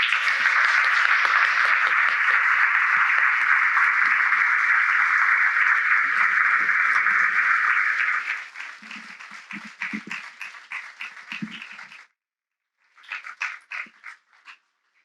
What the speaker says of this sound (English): please give each of our panelists a round of applause